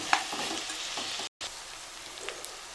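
Cleaned bommidi fish frying with onion and green chilli in a Telangana-style curry pan, a steady close sizzle with light stirring scrapes, briefly cut to silence midway, then continuing.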